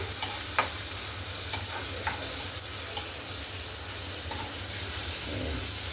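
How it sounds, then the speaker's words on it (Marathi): Onion and garlic sauté with wild greens in a pan, giving a soft continuous sizzle and hiss with scattered clicks and scrapes of a spatula stirring throughout. "कांदा लाल झाला की आपण परतून घ्यायची आहे भाजी"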